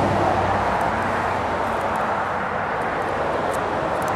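Traffic on a nearby street makes a steady broadband roar, a continuous wash of passing cars blending into one even rumble with faint high ticks, no talk.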